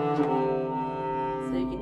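Sustained bowed tones from a standard nyckelharpa, a Swedish keyed fiddle, ring with rich harmonics and sympathetic-string shimmer, close and steady, with a slight swell near the end and no talking.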